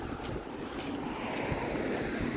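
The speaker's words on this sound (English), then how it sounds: "It is getting windy out here." Steady outdoor wind near a stadium field rushing and buffeting against the microphone, a continuous broadband roar with no voices.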